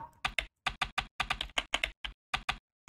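Fast, crisp keystrokes as PHP code is typed on a computer keyboard, close and fairly loud, in irregular bursts with short pauses and no voices.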